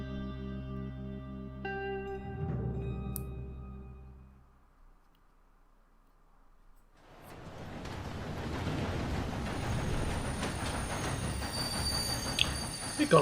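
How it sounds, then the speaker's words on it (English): A train ride in the video game Red Dead Redemption 2: tonal sounds first fade into near silence, then a low rumbling roll of wheels and carriage rattle builds up and carries on steadily, moderately loud, with no voices. "We've gone on the train."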